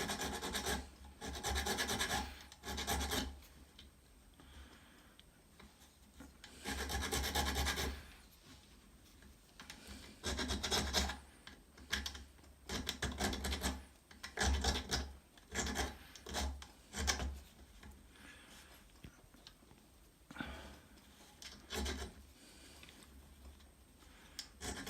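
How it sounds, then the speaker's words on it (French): A file rasps back and forth across a tiny copper piece being shaped for enamelling, close and fairly quiet strokes coming in irregular bursts with short pauses. "ça se lime quand même relativement bien, même si c'est un peu compliqué comme c'est une toute petite pièce"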